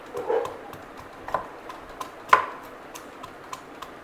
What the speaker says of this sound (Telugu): ఒక ఫైవ్ పచ్చిమిర్చీలు వేస్ రోట్లో వేసుకొని దంచుకోవాలి